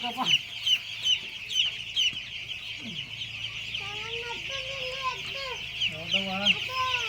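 A chicken clucks repeatedly close by in a series of short, wavering calls, with a steady high-pitched background hum.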